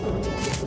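A pigeon gives a brief, soft coo, close by and alone, lasting under a second against a low background.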